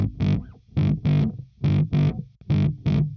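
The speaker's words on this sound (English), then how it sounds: "here you get a more synth bass flavor from your bass" Distorted electric bass with the tone knob rolled down and the bridge pickup off, played softly for a synth-like tone. Short punchy notes come in a choppy rhythm with gaps of silence between them.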